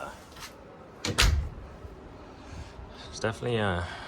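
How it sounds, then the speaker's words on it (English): A door is pushed shut at a house during cleanup of a clogged downspout, giving a sharp thump with a brief rattle, followed later by a louder clunk and the start of talk. "Not slam the door."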